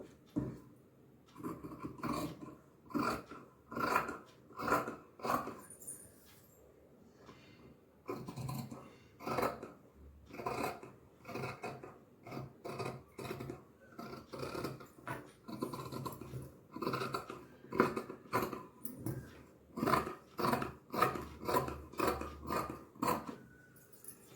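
Scissors snip through blouse fabric along a marked line in a princess-cut blouse, giving a close, rhythmic series of crisp cuts with short pauses between strokes and no talking.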